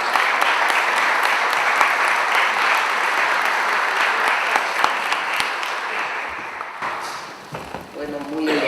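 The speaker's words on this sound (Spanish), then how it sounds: "Un aplauso para ella" An audience applauds a speaker being welcomed to an education panel, dense and steady clapping filling the room for most of the stretch before tapering near the end.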